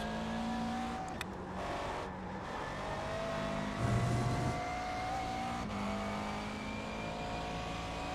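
A GT3 race car engine in a racing video game at Lime Rock Classic, droning steadily with shifting pitch as the car is worked around the track, with brief tire squeal and no talk.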